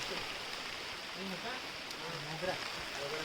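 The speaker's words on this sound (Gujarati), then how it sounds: "વરસાદ ખૂબ ચાલુ થઈ ગયો છે." Heavy rain falling in a Gujarati village makes a constant, even hiss throughout, with a voice talking faintly underneath.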